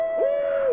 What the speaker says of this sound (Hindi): उल्लू बोल रहा था,